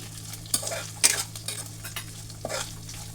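Peanuts being sautéed in a pan, with a few sharp scrapes and clinks of a spoon over a quiet, steady low hum and a faint sizzle, heard close with gaps between strokes.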